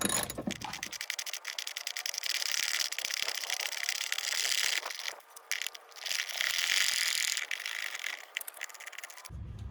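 A ratchet working a long 18mm bolt out of the top of a rear shock on a Chevy Equinox, with rapid clicking pawl bursts and scraping metal, close and loud, broken by brief pauses.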